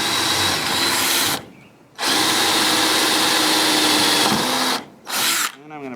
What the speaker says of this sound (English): I'm going to pre-drill the wood to make this a little easier.